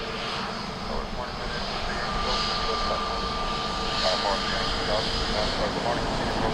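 An aircraft engine roars steadily at Dublin Airport, a loud continuous drone with a faint tonal whine, while radio chatter plays over it.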